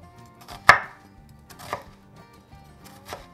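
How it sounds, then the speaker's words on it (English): An onion is chopped with a knife on a board, giving three separate sharp chops, the first loudest, with quiet pauses between. "This is the fastest way to get a nice chopped onion"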